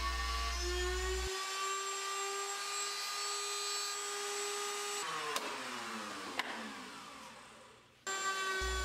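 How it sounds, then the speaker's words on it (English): A power tool whines at a steady high pitch while cutting dovetails into wooden piano bench stringers. The tone shifts and strains under load partway through, then the tool briefly stops and restarts, with no talking. "Here I'm cutting the dovetail on the end of the stringers"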